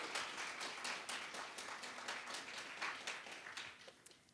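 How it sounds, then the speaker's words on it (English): An audience at a gallery reception applauds a discussion panel, a soft, distant patter of many hands clapping steadily before fading out. "A round of applause for our lovely panel."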